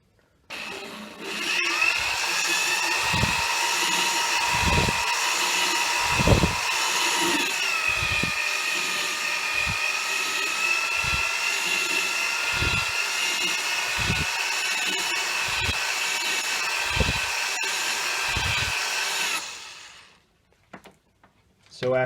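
A power drill spinning a cylinder hone whirs steadily at low speed for about twenty seconds with a rhythmic thumping as the tool strokes in and out, then stops.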